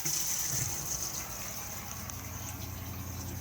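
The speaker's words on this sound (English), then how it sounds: "we have water pump on and off just here whenever the pump is running." A caravan water pump in an Elddis Majestic 105: a steady mechanical hum with gushing water underneath, running continuously at moderate level with no talking.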